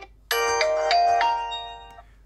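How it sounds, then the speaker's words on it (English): Default ringtone of a Realme 12 5G phone plays a bright, chiming electronic melody that starts abruptly after a short silence, pulses through a few rising notes, then fades away, heard alone. "So this is actually the default sound."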